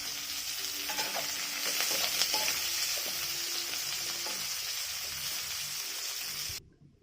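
Chopped onions hitting hot oil with two chillies in a pan, a loud steady sizzle with light stirring scrapes, cutting off sharply at the end.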